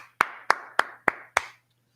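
Five crisp unison claps from a group in a brotherhood class, evenly timed and close, each ringing briefly in the room before silence at the end.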